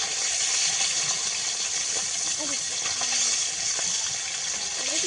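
Water pouring steadily into a pot of crab curry, a continuous close gushing splash lasting the whole moment, with faint voices in the background.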